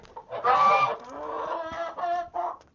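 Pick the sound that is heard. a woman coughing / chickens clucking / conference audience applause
chickens clucking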